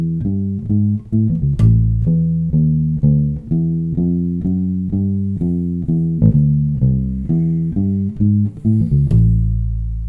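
Bass guitar walking line in a steady quarter-note pulse with quick triplet figures slipped in, played alone, close and clear at a moderate level with each note plucked distinctly.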